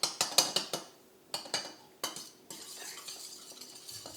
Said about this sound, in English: you have to stir it until every single jelly crystal has been dissolved